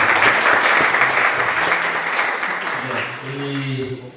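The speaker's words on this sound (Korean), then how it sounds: "우리 수고해주신 찬양팀, 기도해주신 자매님, 그리고 성경 공부해주신 자매님 위해서 박수 한번." A congregation applauds the worship team and helpers at a Korean campus fellowship's autumn joint worship service, a steady dense wash of clapping that gradually thins toward the end, with faint voices and low tones emerging underneath.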